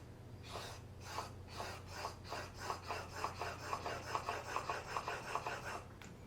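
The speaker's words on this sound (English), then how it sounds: "We're just going to do a straight hone." A new block plane blade is honed on a sharpening stone, with close, rhythmic back-and-forth rasping strokes that speed up into a quick, regular scraping pattern before stopping.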